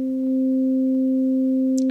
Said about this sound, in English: just put this here in the output directly, we should hear a sine wave.